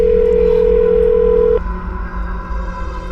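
A telephone call tone plays as a steady, loud, unbroken tone for about a second and a half, then cuts off abruptly, leaving low background hum in a room.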